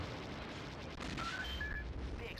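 Video game explosions on an Android emulator rumble and crackle in a dense continuous wash, with a few faint higher tones sounding over the noise.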